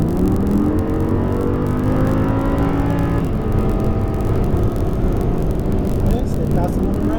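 An Audi R8 on a race track, engine note climbing steadily under full throttle, loud and close throughout while a driving coach talks over it.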